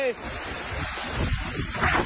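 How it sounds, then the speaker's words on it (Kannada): Strong wind gusts roar outdoors near a Shiva temple, buffeting the microphone with a broad, steady rush that swells toward the end. "ಅಷ್ಟೊಂದು ಗಾಳಿ ಬರ್ತೈತೆ"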